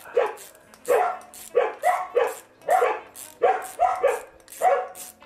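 Dog barking in a workshop during a Honda VFR 1200 motorcycle project, a run of about ten loud, close woofs in an uneven rhythm, with no other voices.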